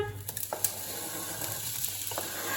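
Onions sizzling in hot oil in a home kitchen pan, a steady close crackling hiss with small pops and stirring clatters running throughout.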